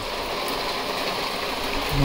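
Heavy monsoon rain pouring down in a rural village in Konkan, a steady dense hiss of water with no break, fairly close and even throughout.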